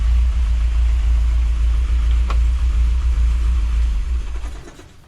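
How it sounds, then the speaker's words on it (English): A hot Triumph TR7 engine idles loud and steady with a deep rumble close by, then is switched off and its sound dies away over the last second. "I'll turn the engine off."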